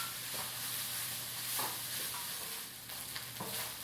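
Cooked organic white basmati rice and carrots stirred through in a pan, a steady soft scraping and shuffling over a faint sizzle, close and moderately quiet with no voices.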